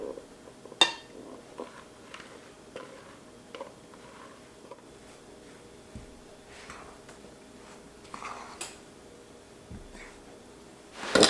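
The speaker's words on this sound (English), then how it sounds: "We're going to toss our squash in here to coat it." Squash pieces tossed with pumpkin spice and salt in a bowl, giving sparse, soft clinks and taps of a utensil against the dish, with a few sharper knocks, faint and close.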